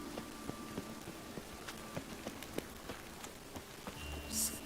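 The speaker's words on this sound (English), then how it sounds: "Rain again." Steady patter of rain in the video game The Witcher 3: Wild Hunt, with scattered sharper drops and light taps, continuous and moderately close, with a faint tonal hum and a brief chime near the end.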